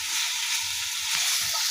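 Leaves fry with garlic and chili in hot oil, giving a steady, close, bright sizzle that holds evenly throughout with no talking over it.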